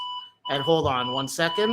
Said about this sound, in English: that was a alarm